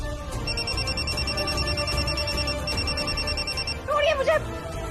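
A telephone rings with repeated bright electronic trills in a Hindi TV drama scene, moderately loud over background music and low noise, followed by a short rising musical sting.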